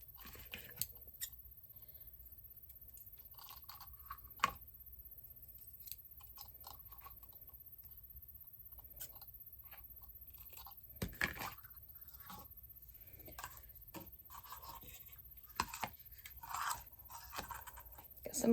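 Scissors snipping lace in a quiet room, a few faint, sparse cuts and scrapes scattered across an otherwise hushed background.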